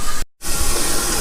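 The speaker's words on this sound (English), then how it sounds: "Put a little steam back on it." Loud, broad steam hiss from ribeye burgers cooking on a hot griddle, a sustained sizzling spray broken by a brief silent gap before resuming.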